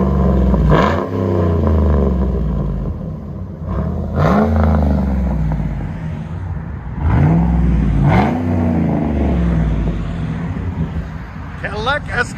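A 2009 Cadillac Escalade with a 6.2L V8 and dual exhaust with a race muffler revs three times in a row, each loud blip rising and then falling back to a rumbling idle, with voices heard briefly.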